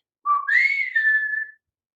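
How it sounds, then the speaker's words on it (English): A single clear whistle, meant as a call to a dog, rising from a low note to a higher sustained tone for about a second, close and alone in silence. "I've trained her to come to a specific whistle."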